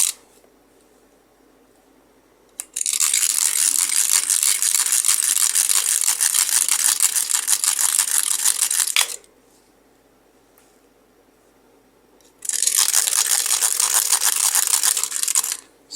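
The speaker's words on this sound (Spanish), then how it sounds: "el escariador. Le vamos a sacar el borde." A reamer scraping the edge of an air conditioner valve, heard as two long bursts of harsh, steady grinding separated by quiet pauses, close and loud.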